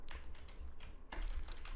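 Quick keystrokes on a computer keyboard while a sudo command is typed into a Linux terminal: a short, steady burst of close clicks and taps.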